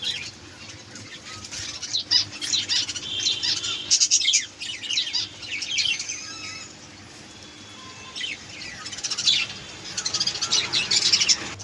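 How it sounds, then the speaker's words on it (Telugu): Small, colourful caged pet birds, five or six kinds sharing one cage, chirp and squawk busily up close, with bursts of wing flapping and brief quieter gaps between the flurries. "వీటిలో ఒక పంజరంలోనే కనీసం 5-6 కలర్స్ పక్షులు ఉన్నాయి."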